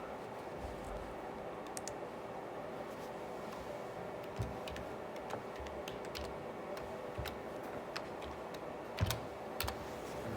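Faint, scattered key taps on a computer keyboard as a password is entered, soft irregular clicks over a quiet room hum.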